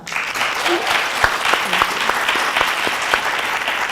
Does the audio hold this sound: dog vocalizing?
no